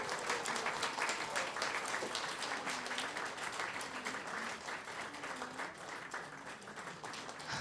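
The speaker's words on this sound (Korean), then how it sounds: "박수 쳐주세요." A church congregation at a Korean Sunday service with a children's cross-necklace ceremony applauds steadily and evenly throughout, soft and somewhat distant.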